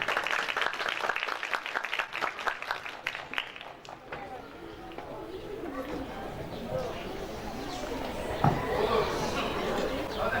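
Clapping from the audience at a primary school graduation ceremony, greeting the school principal as he is invited onto the stage; sharp, dense claps early on fade into a steady crowd murmur, with voices throughout.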